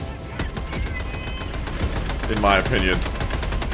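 Rapid gunfire from a primary weapon in Helldivers 2, a burst of repeated shots crackling in a quick rhythm while someone talks over the shooting.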